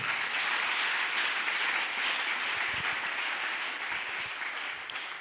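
A church congregation breaks into sustained applause during a sermon, a dense, steady wash of many hands clapping close by that tapers slightly toward the end.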